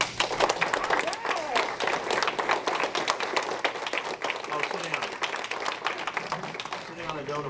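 An audience at an evening conference gives warm applause welcoming a speaker to the stage, dense clapping that stays full and steady throughout while a voice speaks over it.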